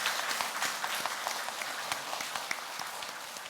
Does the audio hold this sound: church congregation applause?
yes